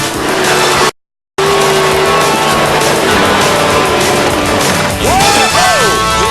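Jeep Cherokee climbing a steep desert dirt hill, engine straining loudly and continuously with a brief dropout, then a rising whine near the end.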